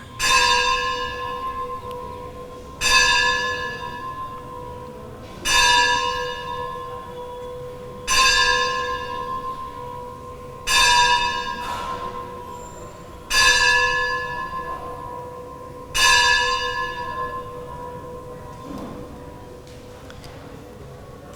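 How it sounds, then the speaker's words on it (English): A large bell rings repeatedly at a slow, steady pace, each loud clang ringing out and decaying before the next. "Let 9 bells ring."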